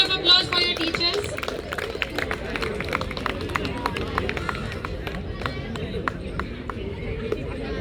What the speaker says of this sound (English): Big round of applause for your teachers.